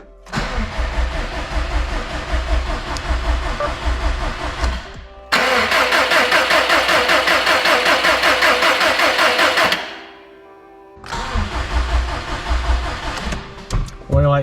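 Brand new car engine on its first start: repeated bursts of starter cranking with rhythmic churning, broken by short pauses, loud and close, with speech heard in places.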